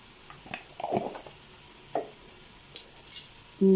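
A spatula stirs spices into egg rice in a pan, making a few soft, scattered scraping and sizzling strokes that stay faint and quiet.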